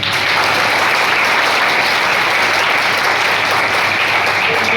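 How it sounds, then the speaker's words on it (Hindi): Steady, dense applause from a large group of children at a district-level school sports meet closing ceremony, loud and continuous throughout with no pauses. "अपने आप के लिए तालियां बजाइए एक बार।"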